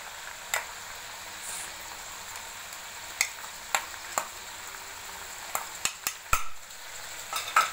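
Green sauce of coriander, mint and green chilli paste being stirred into chicken karahi gives a soft, low sizzle punctuated by scattered sharp clicks and scrapes of the spoon against the pan.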